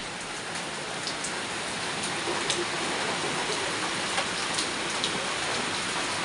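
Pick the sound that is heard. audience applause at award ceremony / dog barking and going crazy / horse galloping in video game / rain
rain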